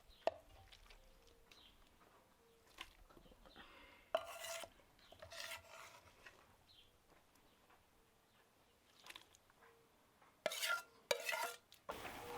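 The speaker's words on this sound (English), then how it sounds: "Now I stir up my slaked lime" Slaked lime being stirred for homemade biodegradable milk paint, quiet intermittent scraping and rubbing strokes in a container with a few louder rasping bursts near the end, close and faint with no talking.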